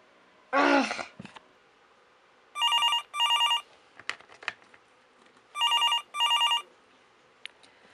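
A telephone rings in two pairs of bright electronic double rings separated by a pause, loud and close, after a sharp sneeze-like burst and some small knocks.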